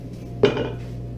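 A utensil scrapes and clinks once against a pan as icing is stirred over heat, a single sharp nearby metallic knock with a short rattle, set against a faint steady hum.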